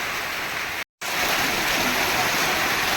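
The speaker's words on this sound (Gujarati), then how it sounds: "મેઘ મેઘરાજાએ ભગડાટી બોલાવી છે જોરદાર અને પવન સાથે" Heavy monsoon rain pours down with strong wind in a village, a dense, constant roaring hiss close by that cuts out briefly for a moment, then resumes.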